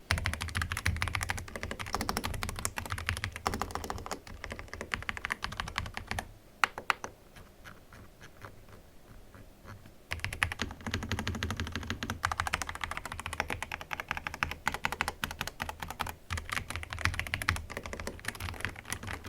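Steady, rapid typing on a stylish white computer keyboard with purple accents, close and crisp, keys clattering continuously with a brief quieter pause in the middle, no voices.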